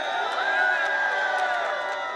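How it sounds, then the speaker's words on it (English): A crowd at a public healthcare advocacy rally cheers and whoops as a doctor is called up to speak, a sustained bright roar of many voices at moderate distance with no distinct clapping standing out. "Please give her a round of applause."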